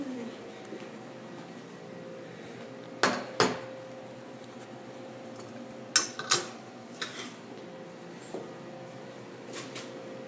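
Dishes and cutlery clinking at a home kitchen sink, a few sharp clatters in pairs separated by quieter stretches, with a faint background hum and no talking.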